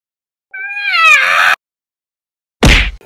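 A cat gives a long, loud, rising-and-falling meow at close range, followed after a short silence by a brief harsh noise or hiss.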